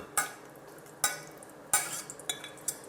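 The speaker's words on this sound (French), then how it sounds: "Ça fait mousser un petit peu le gras, Ouais. tel un petit peu une petite friture." Fat from pork belly crackles and sizzles softly in a pan, punctuated by several sharp pops and spatters, with no talking.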